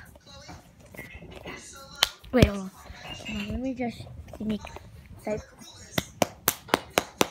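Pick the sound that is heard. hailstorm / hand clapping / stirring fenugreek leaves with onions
hand clapping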